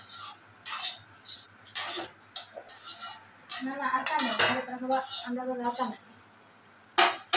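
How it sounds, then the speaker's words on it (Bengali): A spoon stirs boiled taro in a pot with repeated clanks and scrapes against the metal in uneven bursts, close by, while a person talks between the clatters. "এই যে কচু চামচ দিয়ে একটু লাড়া দিয়ে।"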